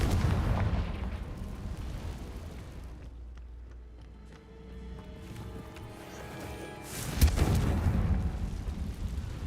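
Blasting spell explosion in the Hogwarts Legacy video game: a loud broadband boom at the start fades into a quieter stretch, then a second sharp blast bursts near the end.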